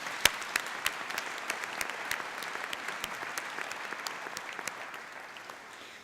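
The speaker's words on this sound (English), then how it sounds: "Let's give ourselves a round of applause." Applause from a graduation ceremony audience at Strathclyde Business School rolls in as a dense, even patter of many hands, heard from a distance and slowly fading.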